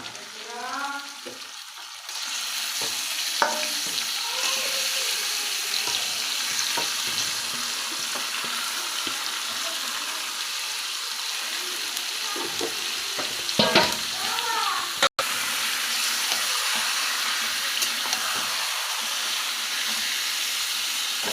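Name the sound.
mutton frying with fried onions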